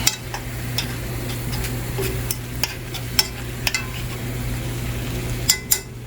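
Hamburger and onions fry in a pan with a steady close sizzle, punctuated by scattered clinks and scrapes of a utensil stirring against the pan, no voices.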